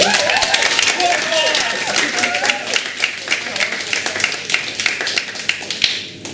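Applause from a crowd, a steady wash of clapping that carries on for several seconds and thins out toward the end.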